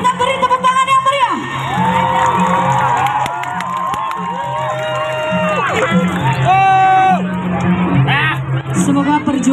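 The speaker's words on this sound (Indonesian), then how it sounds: "Kita beri tepuk tangan yang meriah." A large outdoor crowd cheers and whoops at an Ogoh-ogoh parade on a town field in Seputih Raman, Lampung, loud and continuous, with shouting voices and amplified talk mixed into the noise.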